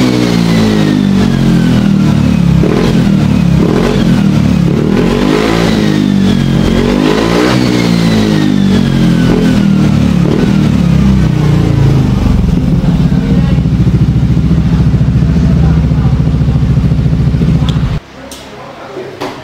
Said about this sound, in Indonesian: begitulah untuk suara knalpot Prospeed Standard Racing di Aprilia SR GT 200